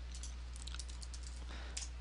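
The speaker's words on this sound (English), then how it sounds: "by clicking it and typing the command flip" Computer keyboard typing of a short command, several quick light key clicks in irregular bursts over a faint steady hum, close and quiet.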